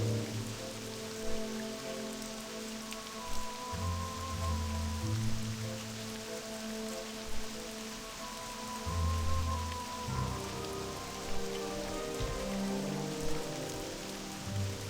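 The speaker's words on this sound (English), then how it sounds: "now it's raining in Mulgore." Rain falling in Mulgore in World of Warcraft Classic, a continuous soft hiss of drops on the ground with occasional low rumbling swells beneath.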